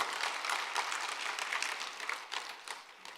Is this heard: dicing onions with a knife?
no